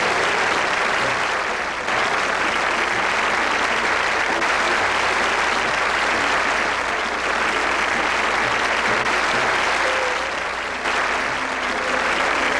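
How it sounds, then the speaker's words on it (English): Broad, continuous applause from a sizable audience, a dense wash of clapping that holds steady for several seconds with brief dips, no clear talking over it. "I can applaud when I hear something I like."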